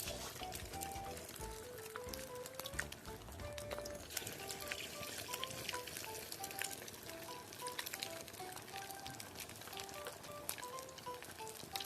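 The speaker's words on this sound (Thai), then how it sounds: "เมื่อน้ำมันของเราร้อนได้ที่แล้ว ตักส่วนผสมลงทอดกันเลยครับ" Fish paste and minced pork fritters deep-frying in hot oil, giving a soft continuous crackle and bubbling with scattered pops, fairly faint and close, with some kitchen clatter.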